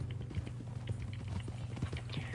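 Horse hooves clip-clop steadily in Red Dead Redemption 2, a close, regular rhythm of muffled thuds under faint game ambience.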